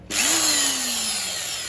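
An electric 220V drill with aluminium gear housing runs in its concrete setting, spinning up with a quick rise and then whining loudly and steadily up close, its pitch sagging slightly, with no talking.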